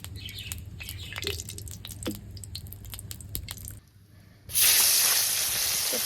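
Birds chirp and water drips softly at first, then oil in a kadai for frying fish breaks into a loud, steady bright hiss that carries on to the end.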